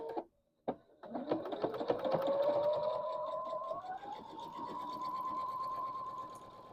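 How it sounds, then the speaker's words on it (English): Sewing machine stitching a pinned quilt block, starting with a short stop-start burst, then a steady rapid whirring run that climbs slightly in pitch and holds, close and fairly quiet. "I'm going to sew it on the line."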